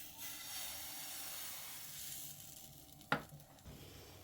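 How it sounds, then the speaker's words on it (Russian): Pancakes sizzling in a well-heated frying pan, a steady soft hiss throughout with one sharp clatter near the end, no voices. "И выпекаем блины"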